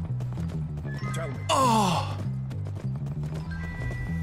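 A horse in the video game Skyrim neighs loudly in a sharp, falling whinny partway through, with hooves clopping in a steady rhythm under a low droning music loop; someone speaks briefly and gasps.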